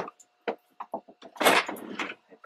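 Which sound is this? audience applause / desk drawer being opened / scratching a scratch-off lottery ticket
desk drawer being opened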